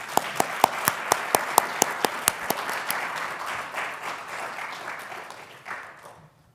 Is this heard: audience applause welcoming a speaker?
yes